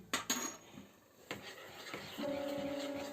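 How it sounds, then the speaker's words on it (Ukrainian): Sugar, vanilla sugar and salt are stirred together in a bowl for a German Christmas stollen dough. A spoon clinks sharply against the bowl a few times, then settles into a continuous close scraping stir, with no speech. "Це все перемішуємо на одно, до однорідного стану, щоб цукор трішки розійшовся."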